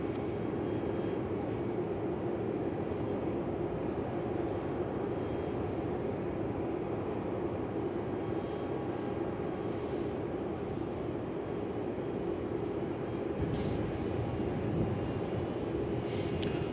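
A Virgin Australia airliner, flight Velocity 725 to the Gold Coast, takes off from runway 34 at Melbourne Airport with a steady, distant jet roar that holds evenly throughout, with no voices.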